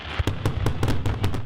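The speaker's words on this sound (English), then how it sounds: "This year's annual fireworks show in San Francisco is set to kick off from a boat by the piers." Rapid crackling fireworks bursts pop in a dense, uneven rhythm during San Francisco's annual New Year's show, launched from a boat by the piers. The bangs are loud and continuous.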